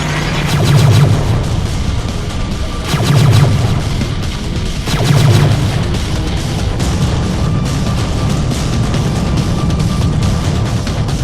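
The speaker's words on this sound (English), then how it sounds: "Photon cannons are hot! Target their engines and fire!" Cartoon photon cannons fire at a ship in a loud, dense barrage, with three heavy booming impacts about two seconds apart over continuous crashing blasts.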